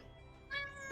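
A cat meows once, rising sharply partway through after a quiet, low background, with a bright, harmonic, drawn-out cry that swells again at the very end.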